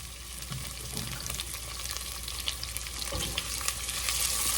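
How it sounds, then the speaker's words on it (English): Onions fry in oil while being stirred for beef tips, a steady close crackling sizzle with occasional spoon scrapes and small bursts, no voices. "I do want to kind of cook my onions until they get a little bit translucent"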